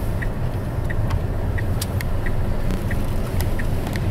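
A Tesla electric car drives along with a steady low road rumble and tire hum heard from inside the cabin, while a faint regular chime repeats every half second or so.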